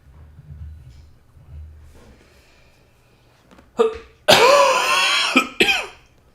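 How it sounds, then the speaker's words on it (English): A couple of sharp, harsh coughs burst out close by after a quiet stretch, loud and raspy with a brief pause between them. "Sorry for the cough."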